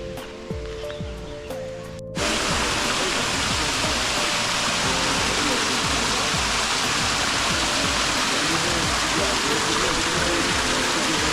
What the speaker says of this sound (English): Phrathat Doi Waterfall, pretty.